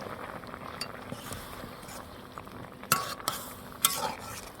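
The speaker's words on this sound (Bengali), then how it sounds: "এখন আমি মাছ দিয়ে দিচ্ছি।" Fish added to simmering vegetable curry in a pan for a tengra fish and drumstick-potato jhol, a low bubbling simmer with a few sharp utensil clinks and taps, close, no voices.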